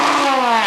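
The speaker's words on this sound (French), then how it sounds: "Il s'agit de Jérôme Galpin au volant de sa Subaru Impreza WRC." A Subaru Impreza WRC rally car races past on a stage of the 2000 Rallye d'Antibes, its engine a loud, high-pitched rasp heard close for under a second.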